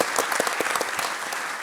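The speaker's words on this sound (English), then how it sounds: "we can cheer for him. Cheer for Thomas." A conference audience at a business panel applauds for a company co-founder, with a burst of brisk, dense clapping that stays steady and close throughout.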